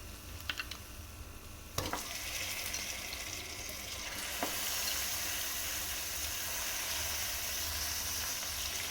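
Washed mutton drops into a hot pan of oil and turmeric, starting a steady sizzle and fry that swells louder after a couple of faint clicks, continuing evenly without voices.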